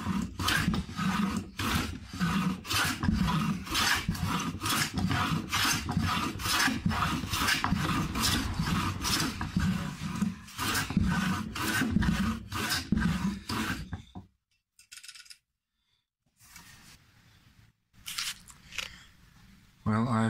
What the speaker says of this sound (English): I've jointed the edges on the totara